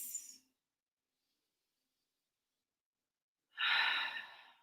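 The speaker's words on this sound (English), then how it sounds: "Big breath in, exhale, release." Breathing during a midday yoga session: a short exhale at the start, a pause of silence, then a long, audible deep breath out close to the mic, with no talk.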